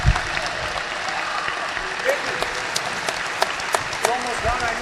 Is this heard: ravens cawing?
no